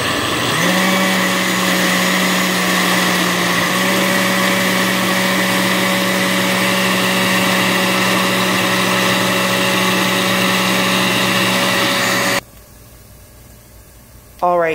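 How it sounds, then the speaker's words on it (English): A blender whirs steadily as it purées ingredients for cauliflower jollof rice, loud and close with a constant high motor whine, then cuts off abruptly near the end before briefly starting again. "So let's blend it."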